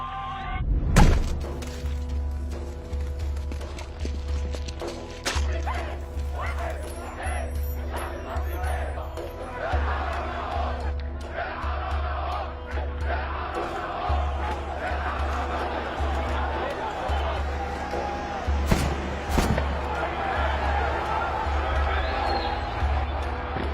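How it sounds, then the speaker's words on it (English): Crowd of protesters filling the streets during the Arab Spring demonstrations against Hosni Mubarak, a dense continuous roar of many voices with shouts and chanting, a low rhythmic pulse and occasional sharp bangs and thuds standing out above the din. "I watched on TV as crowds started demanding the removal of Hosni Mubarak."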